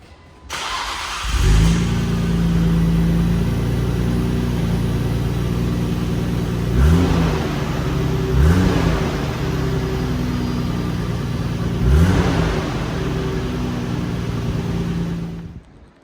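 A Nissan R34 GTR with a stock muffler starts up and idles with a steady, deep exhaust drone, then revs up sharply three times in separate blips before settling back to idle. It is close and loud, with no talking.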